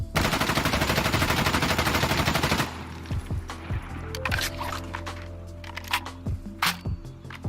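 An Mk18 rifle fitted with a foregrip fires a long, rapid automatic burst in Insurgency: Sandstorm, loud and close. After it stops, a few scattered single shots and ringing echoes follow.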